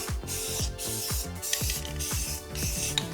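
A rattle can of spray paint applies M81 camo through a homemade stencil onto a Glock 19X. Short bursts of hiss come and go over repeated mechanical clicking and rattling, fairly close and steady in level.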